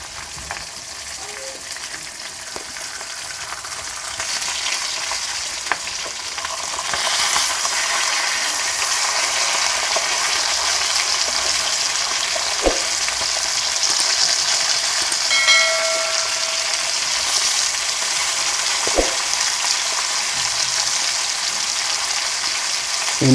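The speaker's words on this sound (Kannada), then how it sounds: "ಇದು ನಾವು ಶಾಲೋ ಫ್ರೈ ಮಾಡತ್ತೀವಿ ರೀ." Komle fish shallow fries in a pan with a steady, close hiss and crackle of hot oil that continues throughout, with a few faint clinks and no talk.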